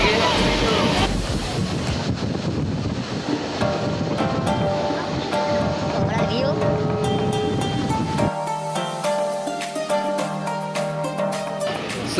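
Interior of a fairly empty moving passenger train on a ride home, with a continuous loud broadband rumble and rushing noise throughout, shifting partway into lighter rattling with faint tonal whines; voices murmur faintly underneath.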